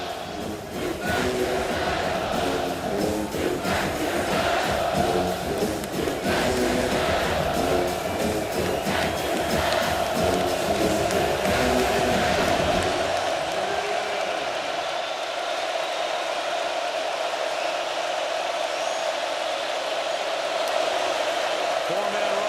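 Huge football stadium crowd at a Texas at Florida college game, roaring at full volume in a continuous loud wall of noise, the low rumble dropping away partway through while the high roar carries on.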